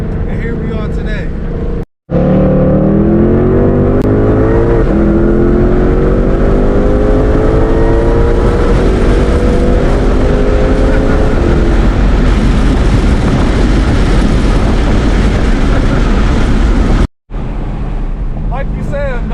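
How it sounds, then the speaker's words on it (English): A 2020 Ford Mustang Shelby GT500 engine roars continuously, its pitch climbing steadily as it accelerates hard toward redline, loud and close with wind rushing throughout. "no lag on this engine. It just goes once you like rev it out to red line"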